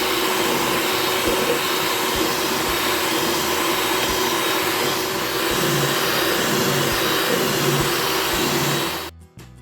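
An electric mixer whirs loudly and steadily while beating egg yolks into milk cake batter, running close and continuous before cutting off abruptly at the end.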